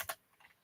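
Quiet typing on a computer keyboard: a couple of sharp key clicks close together, then a few fainter taps, all near and alone with no talking.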